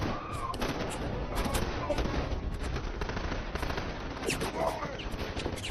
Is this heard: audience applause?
no